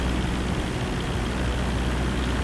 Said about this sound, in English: Oh yes, that's a helicopter flying over